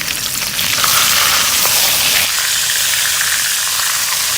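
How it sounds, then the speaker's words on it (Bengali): A large fish head fries in hot mustard oil in a wok, giving a loud, continuous sizzle and hiss that swells slightly partway through, with no voices. "মাছের মাথাটা লাল করে ভাজা হয়ে গেলে এখন থালিতে ওঠাই নিব"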